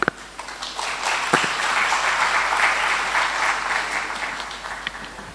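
An audience at a live spiritual discourse by a religious leader applauds in a sustained, dense wash of clapping that holds steady for several seconds before thinning out, with no voices over it.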